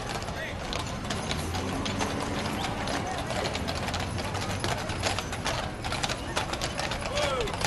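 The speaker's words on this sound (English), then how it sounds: "Merle Schreiber does a good job of bringing his horses down here every year." Belgian draft horses' hooves clop along the pavement in a small-town Fourth of July parade in Cannon Falls, a steady rhythmic clatter mixed with crowd chatter and people talking nearby.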